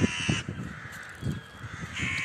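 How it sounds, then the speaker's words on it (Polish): Crows caw repeatedly outdoors, a few harsh calls spaced apart at moderate distance, with a steady background hiss. "Ptaszki."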